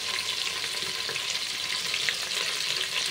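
Drumstick, carrot, onion and green chilli pieces fry in oil for sambar, producing a dense, even sizzle that holds steady and close throughout.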